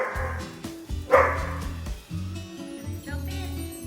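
A dog excitedly barks and yips in several short bursts while playing by the water at a houseboat in the Great Smoky Mountains, with one louder bark standing out midway.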